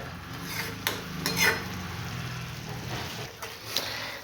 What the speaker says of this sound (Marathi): आपल्याला मस्तपैकी हे परतून घ्यायचं आहे चांगलं तेल सुटेपर्यंत